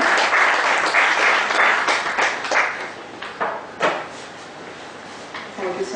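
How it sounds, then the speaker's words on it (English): Audience applause at a chartered accountants' seminar on audit reports, broadband clapping that swells early then thins into scattered claps over about six seconds, with speech mixed in. "Round of applause, ladies and gentlemen."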